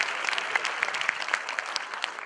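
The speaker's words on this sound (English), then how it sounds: "Give him a big round of applause." An audience at a talk applauds, a steady patter of many hands clapping at moderate loudness throughout, with no voices over it.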